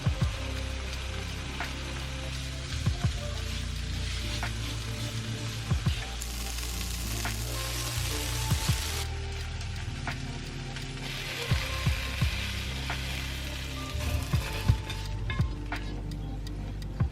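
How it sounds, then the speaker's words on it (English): Taco-seasoned chicken breast sizzles steadily in a frying pan, with intermittent clicks and clatters from a utensil or the pan throughout. "I'm gonna start that up in my frying pan, get that cooked up"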